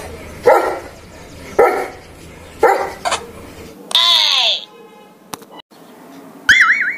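Dog barking in three loud, sharp barks at roughly one-second intervals, close by, followed by cartoonish sound effects and whistling tones.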